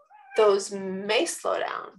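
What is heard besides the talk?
cat meowing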